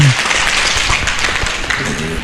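Audience applause for a qasidah music group at a live Friday-morning radio broadcast in Surabaya, a dense, steady burst of clapping lasting about two seconds, with a brief voice at the very start.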